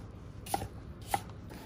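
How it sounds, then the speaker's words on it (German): A knife cuts through asparagus on a board in a kitchen, making two crisp, close chops about half a second apart over a faint steady background hiss. "dann den Spargel schneiden."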